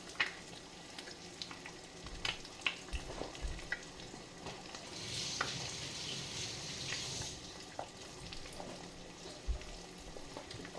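Eggs fry quietly in a cast iron pan with a soft, steady sizzle, punctuated by scattered small clicks and knocks of kitchen handling, fairly faint throughout.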